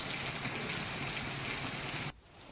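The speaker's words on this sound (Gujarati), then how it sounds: "જાફરાબાદ શહેરમાં ધોધમાર વરસાદ જોવા મળ્યો." Heavy monsoon downpour in Jafrabad town, Amreli district, Gujarat, as a dense, loud, unbroken roar of rain that cuts off abruptly near the end.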